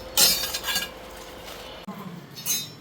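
Metal cutlery and dishes clink and scrape in a home kitchen, a few sharp close clatters spaced out over the moment, with a pot lid being lifted among them.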